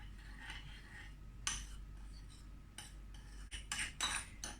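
Soy sauce mixed in a bowl with a metal utensil for a keto egg-based okonomiyaki, making faint scraping and light clinking in short bursts, close by and without talk.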